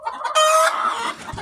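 Loud, harsh calls from a pen of mixed-breed hens, with one sustained squawk in the middle and softer clucks around it, close up and alone.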